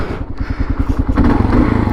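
Motorcycle engine running as the rider sets off on a ride, a loud, close, throbbing exhaust pulse that builds slightly in the second half with no talk.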